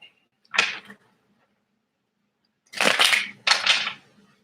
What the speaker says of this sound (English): Shuffle it quick.